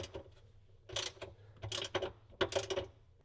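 A ratchet tightens a nut with a washer on a subwoofer box stud in a vehicle, giving three short bursts of quick, close clicking separated by brief pauses.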